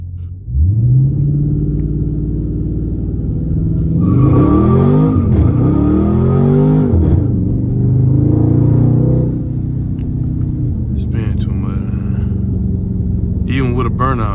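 Dodge Charger 392 Scat Pack V8 in cold weather, a deep steady rumble rising into rapid revs with sweeping pitch climbs as it launches, then settling back to a lower drone, loud and close throughout.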